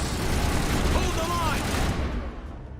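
Automated turret fire in the Mass Effect game, a dense sustained barrage of rapid gunfire and blasts filling the mix, with people talking under the din.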